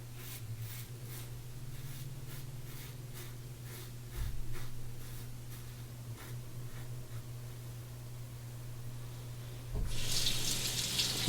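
Tap water running steadily into a sink while a safety razor is rinsed, a soft continuous hiss with occasional faint clinks and a louder splashing surge near the end.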